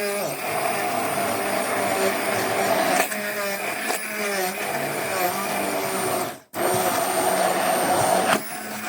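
A blender grinds oats into a sugar-free, flour-free oat protein cake batter, giving a loud, steady whirring roar that briefly cuts out near the end before starting again.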